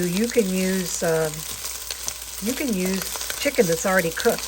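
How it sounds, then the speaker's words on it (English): Chicken stir-frying in a pan for a chicken gnocchi soup, a steady soft sizzle running under continuous close talking by a speaker. "We're stir-frying this till it's done."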